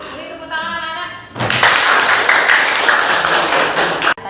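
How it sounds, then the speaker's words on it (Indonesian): Children applaud together in a classroom, a burst of hand clapping that starts after a brief quiet voice and runs steadily for about three seconds before stopping abruptly. "Beri tepuk tangan anak-anak."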